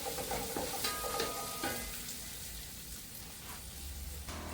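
Spring onion whites hit a hot pan for a big batch of fried rice and chilli chicken, giving a loud, steady sizzle with a few stirring clinks, close up and without any talking.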